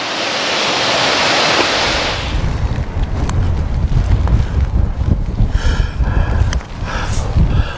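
Gusty wind at Bleaberry Tarn, a mountain lake above Buttermere, roaring and buffeting close against the microphone with a loud surf-like wash, steady and continuous throughout.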